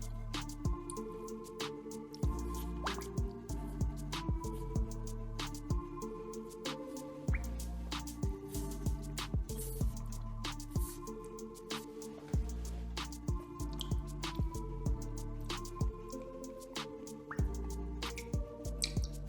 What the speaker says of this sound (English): Pouring slowly will help allow the air bubbles to work their way out.